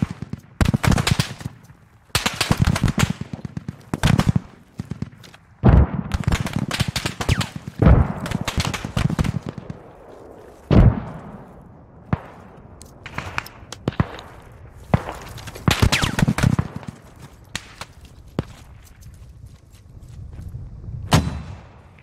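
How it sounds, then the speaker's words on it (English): Machine gun fire in the military shooter game Squad, rapid bursts of automatic gunfire cracking repeatedly with short pauses between volleys, some shots loud and close, others more distant, with no talk. "There's machine guns up on that hill"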